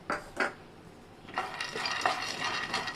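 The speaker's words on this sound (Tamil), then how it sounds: "இதுலேயே நம்ம வேர்க்கடலை வறுத்து எடுத்துக்கலாம்" Peanuts dry-roasting in a pan, heard as a few sharp spatula knocks at first, then a busy, continuous rattle and scrape of nuts being stirred against the metal, close by and moderately loud, with no talk.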